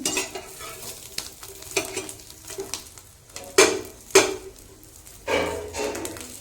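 Capsicum is stirred in a hot pan after the gas is switched off, giving intermittent scraping and clinking strokes over a faint sizzle, close and fairly quiet.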